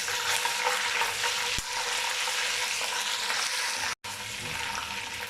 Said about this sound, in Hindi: अब इसमें अदरक लहसुन का पेस्ट डालेंगे